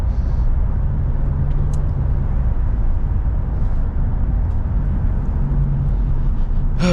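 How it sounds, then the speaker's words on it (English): 2007 Mitsubishi Eclipse SE tyres rolling over gravel on a road after melting snow, a continuous coarse crunching rumble under a steady road roar, heard from inside the car with no talk. "A lot of gravel on the road you're probably hearing because we got snow last week"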